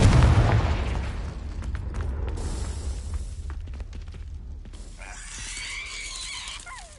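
The Confringo fire spell explodes in the video game Hogwarts Legacy with a loud boom at the start, followed by crackling, rattling debris and a fizzing tail that fades over several seconds.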